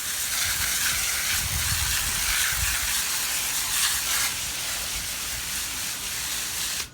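A garden hose sprays a strong, steady stream of water over a pool filter's cartridges, a loud continuous close-up hiss and splatter that cuts off abruptly at the end.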